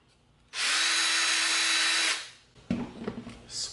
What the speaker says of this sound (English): We're going to drill a little hole.